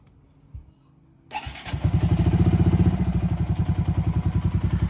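A Honda Monkey 125 motorcycle engine cranks briefly after a couple of quiet clicks, catches, and settles into a close, steady idle with a rapid even thumping pulse.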